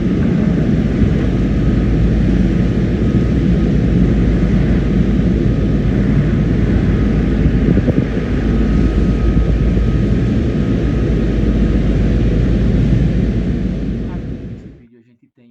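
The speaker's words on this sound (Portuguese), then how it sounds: "um helicóptero que está chegando numa plataforma" A helicopter arrives at an offshore semi-submersible drilling platform, a loud, steady rotor and engine roar that keeps going for many seconds and then dies away sharply at the end.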